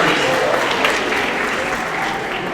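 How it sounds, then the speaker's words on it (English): Eighth-grade students at an awards ceremony give themselves a round of applause, a steady wash of many hands clapping at moderate volume, with some voices mixed in underneath. "give yourselves a round of applause"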